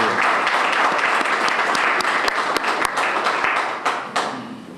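Audience at a press conference announcing a new women's basketball head coach breaks into applause, a dense wash of clapping with a few sharp individual claps standing out, loud and sustained before tapering off.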